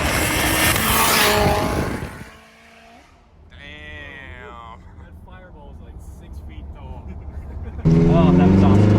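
Heavily boosted 1000 hp Honda RSX DC5 roars past on a public street, a loud close flyby that fades into quieter engine tones, then bursts back at full volume near the end.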